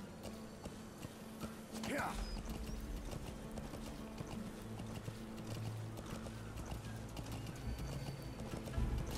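Horse hooves walking in the game Metal Gear Solid 5, a faint, loose clip-clop under a constant ambient bed, with a low rumbling layer entering partway through.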